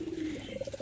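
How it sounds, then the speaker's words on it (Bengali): Pigeons, including crested hen birds, coo softly and repeatedly while busy feeding, a short close murmuring call with no talking over it. "পায়রাগুলো সবই তো খুবই খাওয়ায় ব্যস্ত"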